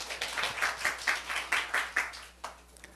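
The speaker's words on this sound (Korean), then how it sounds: "우리 하나님께 박수 올려드립니다" A church congregation claps at a Monday morning worship service, a quick run of about a dozen sharp, evenly spaced hand claps that fade toward the end, with no talking.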